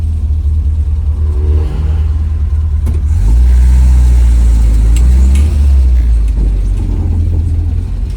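A stock Volvo 242 with a B20 four-cylinder engine drones loudly from inside the car while driving, its pitch climbing as it revs up midway before settling back down.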